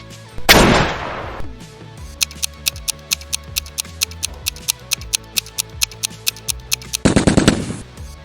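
Scar-L assault rifle gunfire in PUBG: a fast, steady string of about twenty sharp shots, bracketed by louder, noisier blasts at the start and near the end.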